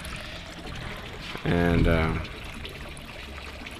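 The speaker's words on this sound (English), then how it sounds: "notice this water here rushing a lot. It's rushing out." Water rushing out of an aquaponics growbed, a loud gurgling gush that surges for about a second over a background trickle, with a person speaking briefly.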